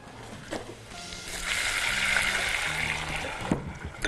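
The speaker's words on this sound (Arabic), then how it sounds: "ميه عاديه، نص كوبايه ميه" Half a cup of plain water is poured into a sauce of butter and sautéed garlic in a home kitchen: a steady, soft splashing pour lasting a couple of seconds, framed by a few clinks, with no voices.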